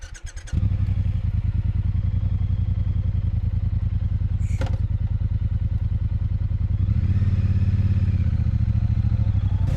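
A 2021 Euro 5 Triumph Bonneville T120 motorcycle engine catches after a short crank and settles into a loud, close, steady throbbing beat. It swells into a rev near the end.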